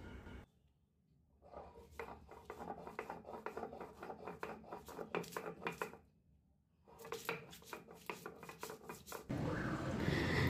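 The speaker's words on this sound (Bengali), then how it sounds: "চারমগজ আর কয়েকটা কাঁচা লঙ্কা, এগুলো এখন শিলনোড়ায় বেটে নেব।" Melon seeds and green chillies are ground on a shil-nora stone slab, a steady rhythmic scraping and rubbing of stone on stone in two long bursts with a short pause between, close and fairly quiet.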